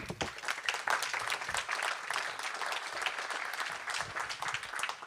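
Sustained, lively applause from an audience at an evening gathering opening with a presidency introduction. Dense overlapping claps carry on throughout at moderate distance.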